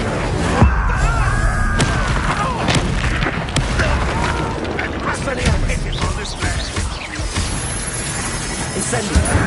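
Incendio fire spell blasts in Hogwarts Legacy, a string of sharp bursts and crackling impacts, loud and close, mixed with other combat noise.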